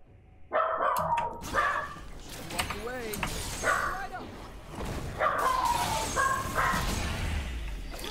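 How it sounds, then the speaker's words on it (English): A pet dog barks repeatedly in short sharp bursts across the stretch, fairly close, over a steady background of game sounds. "My dog likes barking when I'm recording"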